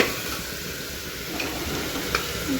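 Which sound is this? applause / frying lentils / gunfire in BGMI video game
frying lentils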